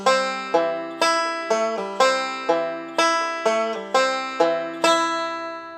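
Banjo picking the opening phrase of a song at a slow beginner pace, about a dozen bright plucked notes in a steady, repetitive pattern, each ringing and decaying before the next, close and clear with no talking.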